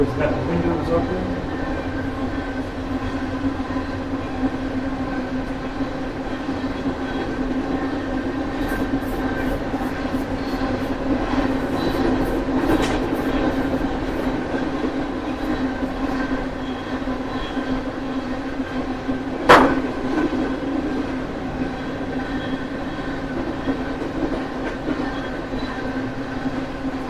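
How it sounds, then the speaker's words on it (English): A train passes outside open summer windows, a steady rumbling wash with faint clicks and a brief sharp squeal near the end, heard from indoors. "Trains are louder in the summer because we've got the windows open."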